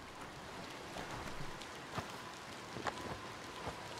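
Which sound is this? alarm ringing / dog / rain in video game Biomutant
rain in video game Biomutant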